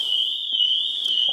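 Alarm system on an Audi A6 Avant plug-in hybrid company car sounds a loud, steady high-pitched electronic tone, continuous and unbroken for the whole moment, with faint background noises beneath.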